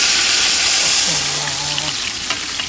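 Loud, steady hiss and crackle of onions frying in hot oil, close and continuous, with a brief low tonal hum and light stirring clinks toward the end.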